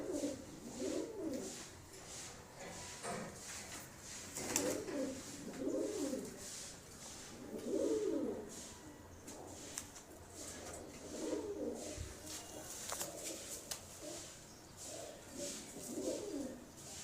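Domestic pigeons kept by a pigeon fancier cooing, soft repeated rolling coos at regular intervals over a quiet outdoor background with faint rustling.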